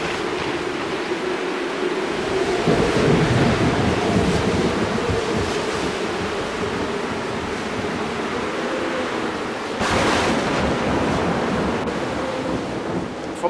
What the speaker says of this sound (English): At which point a low pressure system starts in the sea survival tank, and waves come on and the weather starts to get a bit worse.